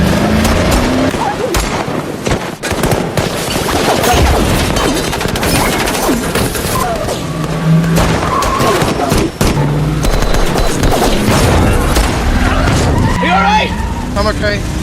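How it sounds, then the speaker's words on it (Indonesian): Film shootout scene with bursts of gunfire and machine-gun fire mixed with vehicle noise, crashes and dramatic score, loud and continuous throughout. "Jadi, adegan baku tembak pun tak bisa dihindarkan."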